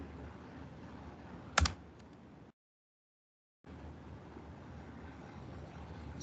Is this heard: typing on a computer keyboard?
yes